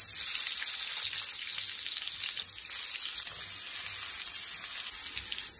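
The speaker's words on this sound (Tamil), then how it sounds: "கத்திரிக்காய் நல்லா எண்ணெயில் போட்டு வதக்கிப்போம்." Brinjal pieces frying in sesame oil in a pan, giving a steady close hiss and sizzle with no talking.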